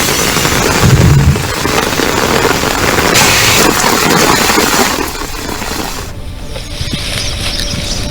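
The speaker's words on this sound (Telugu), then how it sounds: "హైదరాబాద్ లో నిన్న అర్ధరాత్రి భారీ వర్షం కురిసింది." Heavy midnight rain in Hyderabad pours down as a dense, continuous hiss and patter that is loud throughout and eases slightly toward the end, with no voices.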